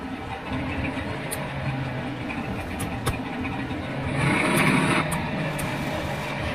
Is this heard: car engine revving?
yes